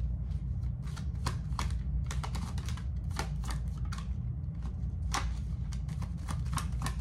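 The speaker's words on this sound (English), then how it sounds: "So I'm just pulling some cards too." Tarot cards being shuffled and pulled for a reading, a busy run of crisp, close riffling and snapping card sounds repeating steadily over a low background hum.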